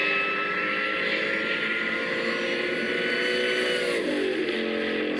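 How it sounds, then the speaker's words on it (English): A 2003 Ford Mustang Cobra accelerates on an ordinary town street, its engine a steady loud drone with a pitch shift near the end as it moves through the gears. "Listen to how many gears he goes through."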